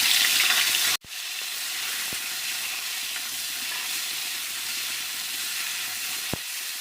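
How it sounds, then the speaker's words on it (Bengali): Cauliflower florets fry in the same oil used earlier for bhetki fish, giving a loud, steady, close sizzle that cuts out briefly near the start and then runs on with a couple of faint pops. "এবারে মাছ ভাজার ওই একই তেলের মধ্যে আমি ফুলকপিগুলিকেও ভেজে নেব।"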